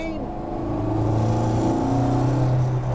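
A new Ford Escort MST mk2 drives up a hill road, its engine humming loud and close and rising in pitch under light acceleration, with a steady road roar behind it.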